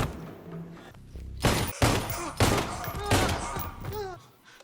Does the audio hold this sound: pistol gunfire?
yes